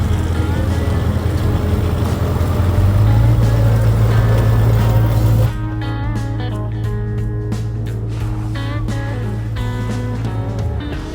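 A 4x4 vehicle climbs Bluff track in the Victorian High Country's Howqua Hills. A loud, low engine drone fills the first half, then drops to a quieter hum with scattered rattles and clatter.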